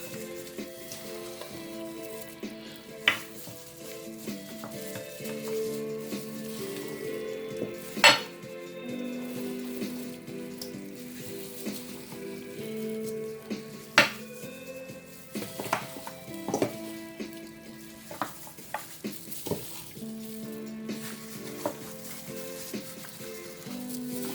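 Pork cutlets fry in a pan on a stove for a Jamaican butter pork stew, a steady sizzle under music with occasional sharp clinks of utensils against the pan.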